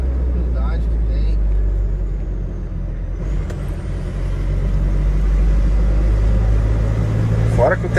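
Chevrolet D20 Conquest pickup driving, its engine giving a loud, steady low rumble from inside the cab, with people talking over it.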